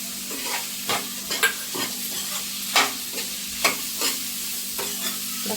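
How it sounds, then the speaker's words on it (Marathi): Boiled prawns fry in a pan for prawn chilli while a utensil stirs them, giving a steady sizzle broken by regular scraping strokes, close and clear with no voices. "जी कोळंबी उकडून घेतलेली आहे ती पण थोडं एक मिनिटभर आपण याच्यात थोडं फ्राय करून घेऊ"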